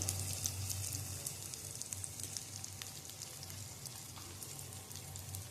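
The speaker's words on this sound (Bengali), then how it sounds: "এরপরে মশলাটাকে একটুখানি কষিয়ে নেব" Spice paste with turmeric powder sizzles in hot oil in a pan for fish-head dal, a soft, even crackle that holds steady throughout with no talking.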